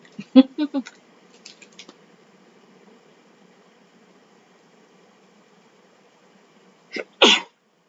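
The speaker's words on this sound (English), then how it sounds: "Sneeze or not to sneeze." A single sharp sneeze bursts out near the end, after some quiet breathy sounds and a stretch of near silence.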